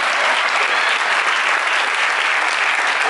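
Audience at a garden awards event breaking into applause, close, loud, dense clapping that holds steady without a break.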